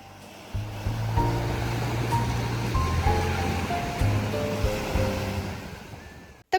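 Rough ocean surf breaking on a Tenerife shore, a loud continuous roar of waves rolling in close by, steady throughout with no voices.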